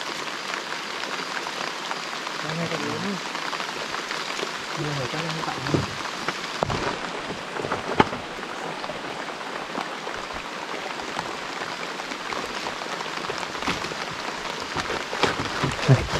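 Steady drizzling rain falls through a rainforest at night as a continuous broad hiss, with a few scattered thumps and short bits of distant speech mixed in.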